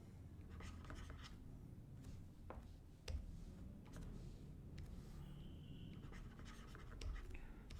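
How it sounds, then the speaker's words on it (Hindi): A pen scratches across paper as someone writes by hand, making quiet, intermittent strokes and small ticks with no speech. "तो इसको लिखते हैं"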